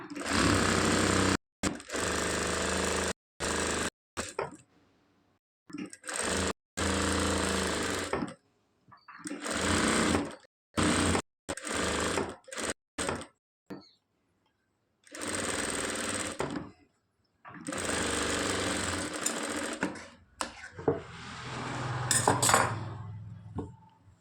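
A sewing machine runs in repeated bursts as it stitches the rounding on a 3/4-sleeve blouse, a loud close whirring chatter that starts and stops between short pauses, with faint clinks of metal, no talking.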